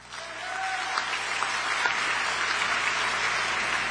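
A political summit audience applauds to show a preference, clapping rising quickly from quiet and then holding steady and dense through the rest of the moment.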